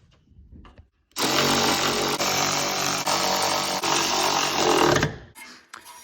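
A power tool runs in one loud continuous burst of about four seconds, tightening nuts on top of a Mazda RX-7 FC coilover, with a sharp start, slight dips in pitch, and quiet pauses before and after.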